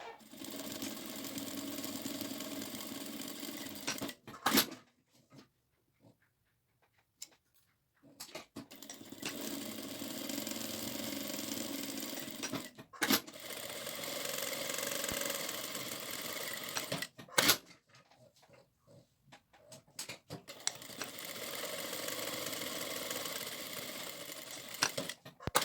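A sewing machine stitches straight quilting lines through polka-dot fabric, running in steady bursts separated by short pauses, loud and close with no talking.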